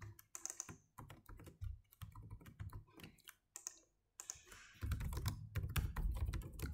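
Rapid typing on a computer keyboard, with bursts of close, crisp key clicks and short pauses between them, heard clearly with no voices.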